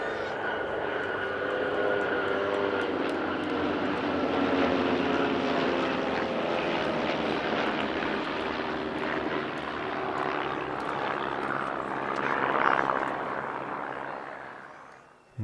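RV8 propeller aircraft and a Gazelle helicopter fly in formation at an airshow, a sustained droning engine hum with layered harmonics, steady and moderately distant, swelling briefly near the end before fading.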